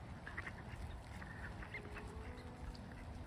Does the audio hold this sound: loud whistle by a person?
no